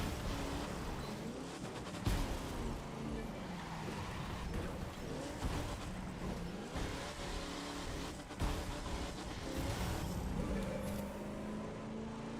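A car engine in The Crew 2 drones and revs steadily for several seconds, a continuous moderately loud growl with occasional sharp bumps, played fairly low in level.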